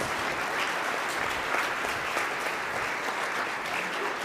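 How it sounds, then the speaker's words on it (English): An audience claps warmly after speakers at a talk event, a steady, moderately loud burst of applause lasting several seconds with no speech over it. "give a big round of applause, you guys."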